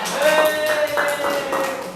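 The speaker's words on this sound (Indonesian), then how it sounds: "Tepuk tangan dong buat pasangan Bagja dan Gugun" Classroom group clapping for a pair of participants, a short burst of moderate hand claps in an irregular rhythm, with a sustained tone and faint voices underneath.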